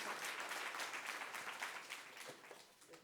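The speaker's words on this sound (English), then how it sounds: "So big round of applause to all of you and my friend Sonia over there." A gathered crowd gives a round of applause at an anniversary event, dense clapping heard quietly and at a distance that thins and fades toward the end.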